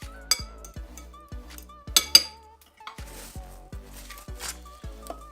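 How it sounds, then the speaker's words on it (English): A spoon clinks and scrapes against a bowl while couscous is mixed, a steady series of bright taps roughly every half second, close and clear with a few sharper knocks. "Mix it a bit, so everything is well combined."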